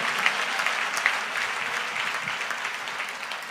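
A Christian congregation applauds loudly throughout a sermon, a thick sustained clatter of many people clapping at once with no voices on top.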